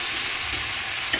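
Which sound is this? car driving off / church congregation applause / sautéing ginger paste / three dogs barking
sautéing ginger paste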